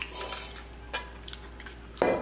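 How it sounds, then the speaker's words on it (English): Metal bowl clinked by a utensil during a mukbang meal, with light scattered scrapes and taps throughout and one sharper, louder clink near the end, close up. "this bowl is like really loud."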